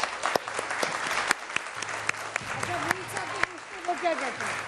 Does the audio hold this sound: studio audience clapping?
yes